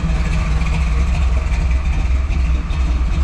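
A restored 1979 Jeep CJ-5 Renegade V8 rumbles at a low, loud idle up close, its deep throb pulsing evenly with a slight lift in revs.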